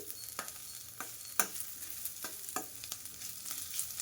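Chopped onions fry in a pan of oil for a jackfruit seed curry, giving a steady sizzle broken by sharp scrapes and clicks as a spoon stirs them every half second or so, with no talking.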